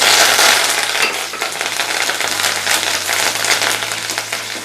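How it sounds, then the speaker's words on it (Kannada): Mustard seeds, green chilli and curry leaves crackle and splutter steadily in a small amount of hot oil in a pan, a dense, continuous sizzle with rapid popping throughout. "ನೋಡಿ, ಈಗ ಎಲ್ಲ ಚಂದ ಸಿಡಿತಾ ಇದೆ"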